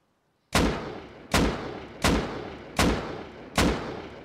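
Five loud, sharp gunshots from a video game fire at a steady pace, roughly one every 0.75 seconds, each with a booming decay.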